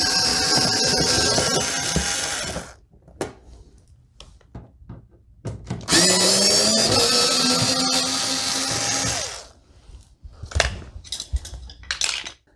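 Power tool driving out the mudguard screws on a Honda Civic, two loud bursts of whirring with rising pitch separated by quieter handling clicks and small metallic taps, close by with no talking.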